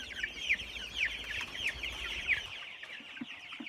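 Chickens cluck inside a brooder, a steady run of repeated mid-pitched clucks and chirps close by, with a low rumble underneath and no talking.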